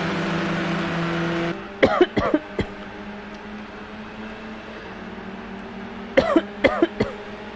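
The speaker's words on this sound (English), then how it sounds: "I do apologise about my coughing." Two close bursts of harsh coughing, each a quick cluster of three or four coughs, break in over a quiet background hum.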